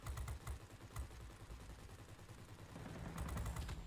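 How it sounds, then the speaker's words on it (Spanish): Rapid machine-gun fire from a warplane in World of Warplanes, a steady rattling stream of bursts that continues without pause for several seconds, loud and close. "he disparado a full sin parar"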